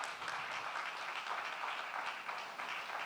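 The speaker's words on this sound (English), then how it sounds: "please a big applause" Applause from an audience at an energy-sector awards ceremony, honouring a second-place award winner; steady, fairly quiet clapping from a crowd, continuous throughout with no voices.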